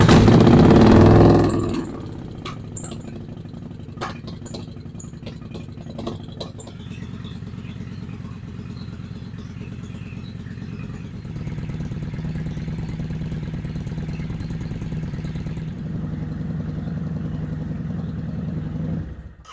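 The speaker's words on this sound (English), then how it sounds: "it's important to do this with a warmed up engine, so let's get the engine up to operating temperatures" Kawasaki Vulcan 750 motorcycle engine warming up at idle, with a loud burst at the start settling into a steady, low, even rumble with light mechanical clatter, slightly louder in the last stretch.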